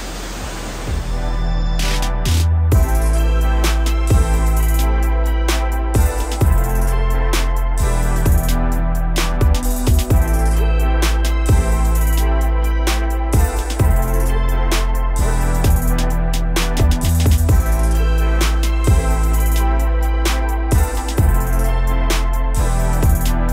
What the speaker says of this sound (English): Many waterfalls. It's so beautiful.